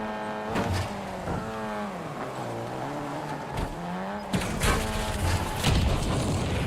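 A car in the Call of Duty video game revs with a wavering engine tone, then blows up in a cluster of loud booms and crackling debris.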